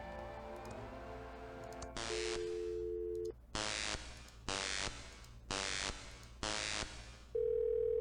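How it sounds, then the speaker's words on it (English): Repeated telephone tones from the video game Thimbleweed Park: a series of loud ringing bursts, each about a second long, with short steady beeps at the start and end, playing over a low background hum. "It's a phone."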